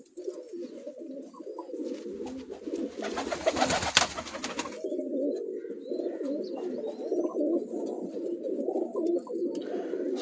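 A large pet pigeon owned by Sikander coos nonstop from a rooftop loft in Kala Bagh, near and full-bodied, with a few seconds of loud rustling or flapping noise early on before the cooing carries on alone.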